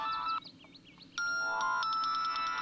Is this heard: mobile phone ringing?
yes